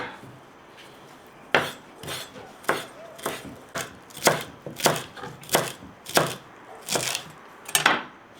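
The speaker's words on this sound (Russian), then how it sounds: "немножко укропчика нарежу, друзья, на картошку" A knife chops fresh dill on a cutting board while preparing a topping for potatoes, giving about a dozen sharp, irregular close knocks spaced through the clip with no talk.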